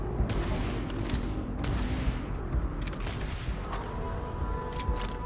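Rapid gunfire from a weapon in the video game Starfield, with repeated sharp shots and bursts rattling over a dense background of combat noise, loud and close with no talk.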